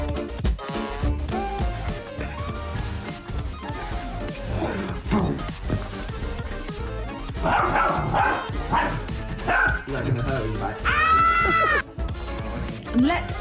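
A dog barks a few times amid busy background music, with other animal bleats mixed in, in a playful household setting with dogs and cats.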